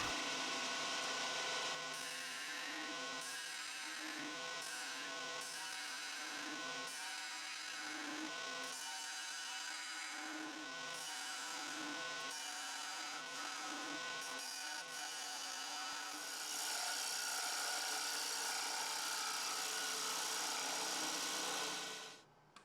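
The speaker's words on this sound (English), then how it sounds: "I start to eliminate the wood that had remained in the base center." A maple box base is hollowed out in its center, with a steady, buzzing tool whine and scraping that cuts in and out in short bursts, fairly faint, with no talking.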